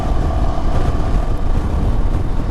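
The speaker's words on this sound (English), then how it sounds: "Get up to speed, get some wind noise going." Wind buffets a helmet microphone at speed while a motorcycle is ridden on a test drive, a loud, continuous broadband roar with low engine rumble underneath and no voices.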